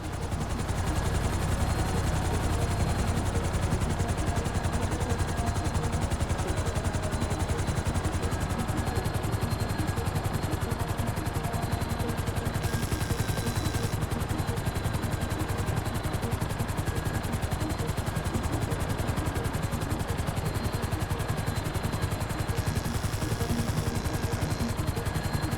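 Continuous loud helicopter rotor drone in the GTA 5 video game, steady throughout with possible gunfire blended into the dense roar.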